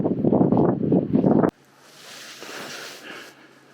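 Loud, rumbling wind buffeting the microphone in gusts for over a second, then cutting to a quieter airy rush of breeze, at the top of Washington Pass.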